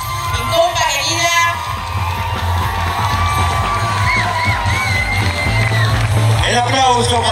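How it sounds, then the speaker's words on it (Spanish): A crowd at a dance show cheers, whoops and shouts loudly and continuously, with excited voices rising over a dense, steady roar throughout. "El aplauso para Andrea Maya, 20 años de Aeroshock."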